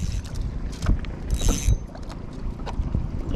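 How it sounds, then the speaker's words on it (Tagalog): Strong wind at sea buffets a fishing boat out in stormy weather, blustering roughly across the microphone alongside water slaps and hull knocks, with a brief hiss in the middle. "Yan, naabutan na kami ng malakas na hangin."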